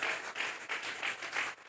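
Applause offered to God by a church congregation during a sermon, a faint, brief round of rhythmic clapping in pulsing bursts, heard from a distance.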